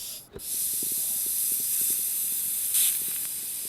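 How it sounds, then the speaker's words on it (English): Air shock absorbers on a vehicle vent through their small valves with a sustained, close, fairly quiet hiss after a brief click, carrying faint ticking beneath it and a short burst of extra hiss near the end. "when you want to release the air from those shocks, you do it like this"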